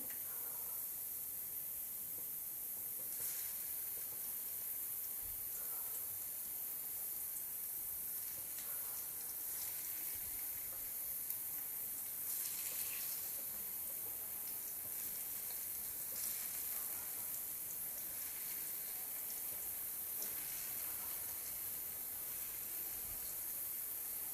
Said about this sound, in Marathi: चला तर वड्या आता आपण तळून घेऊया